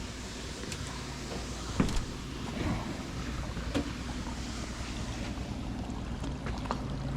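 A Tennessee wildlife agency patrol boat approaches on open water, its engine a low steady rumble under wind and lapping waves, fairly quiet and distant with a few knocks, no talk.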